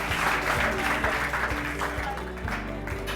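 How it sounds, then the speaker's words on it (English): An audience at a motivational education talk claps in a dense, steady round of applause that holds throughout, with some voices mixed in. "now we'll give a big round of applause"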